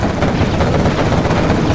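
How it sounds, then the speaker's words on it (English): A quad cannon fires in the Command & Conquer Generals Zero Hour video game, a dense, loud rattle of rapid automatic shots that runs continuously through the whole moment. "Quad cannon."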